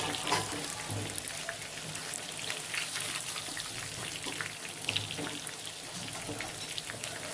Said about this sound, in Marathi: गरम तेलामध्ये आपण सोयाबीन तळण्यासाठी टाकलेली आहे